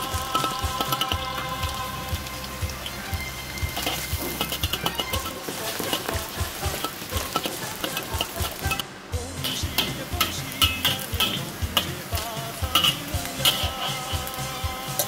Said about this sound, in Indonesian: Ini tumisnya agak lama ya teman-teman ya